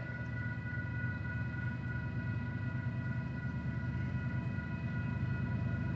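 Union Pacific diesel locomotives lead a northbound freight train, heard as a steady low engine rumble with sustained horn-like tones, moderately distant and constant throughout.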